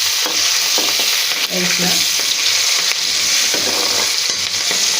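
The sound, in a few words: onions and green chillies frying in a pan for curry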